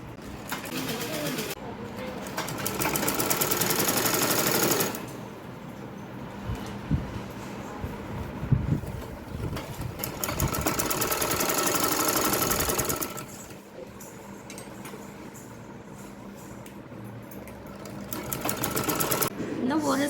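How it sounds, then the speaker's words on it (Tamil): Sewing machine running a full line of stitching along the edge of a blouse, in three sustained runs broken by short pauses, loud and close, with pigeons cooing faintly in the background. "இன்னும் ஒரு ஸ்டிச்சிங் ஃபுல்லாக போட்டாச்சு."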